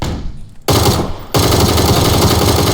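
In-game automatic gunfire erupts during a PUBG firefight in Pochinki. Loud, rapid bursts start after a quieter lead-in and ramp into near continuous, close-range firing.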